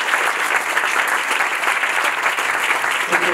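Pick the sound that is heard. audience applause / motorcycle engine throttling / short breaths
audience applause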